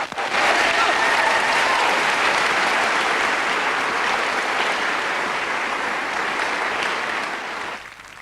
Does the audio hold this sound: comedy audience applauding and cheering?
yes